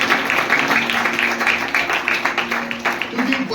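A church congregation claps along during a Hindi-language sermon, giving a quick, fairly even run of hand claps beneath a loud voice that carries on over the rhythm.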